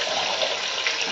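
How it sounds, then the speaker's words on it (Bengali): Water runs from a kitchen tap while hands are washed beneath it, a short steady splashing hiss heard close and alone. "হাতটা ধুয়ে নিই"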